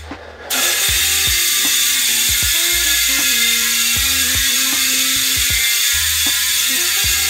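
Bicycle rear freewheel hub buzzing as the wheel spins, a loud steady high-pitched ratcheting whir that starts abruptly and continues evenly, with faint mechanical clicks underneath and no talk.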